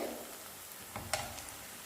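Onions sautéing in a pan as the base for a paneer gravy, a quiet steady sizzle with a couple of soft stirring clicks, faint and without speech.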